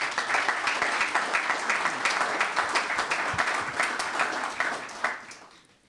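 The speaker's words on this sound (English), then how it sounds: "Let's give him a big round of applause." A conference audience at a business ethics forum in Bled, Slovenia, gives sustained applause, many hands clapping in a thick, even patter that holds for about five seconds, then fades quickly to quiet.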